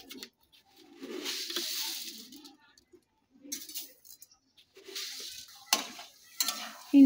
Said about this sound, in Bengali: চিনিটা দিয়ে একটু ফুটিয়ে নেব